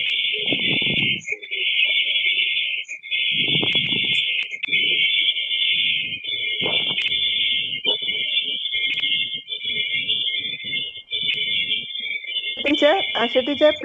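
A phone alarm rings during an online webinar, a loud, sustained electronic beeping tone repeating in long pulses throughout, with intermittent voices and background noise from the call underneath.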